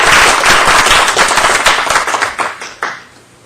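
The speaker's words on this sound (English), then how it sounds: "Round of applause." Audience applause at a town board meeting, a loud burst of dense clapping with sharp individual claps that thins out and fades over a few seconds.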